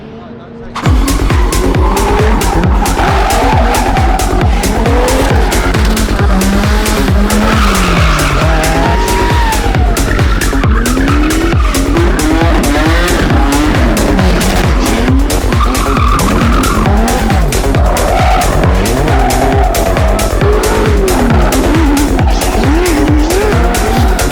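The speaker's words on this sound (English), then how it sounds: "you guys now are watching some drift clips" Drift cars at the Ultrace event sliding with loud, continuous tire squeal and screaming, revving engines, sustained and close throughout with no break.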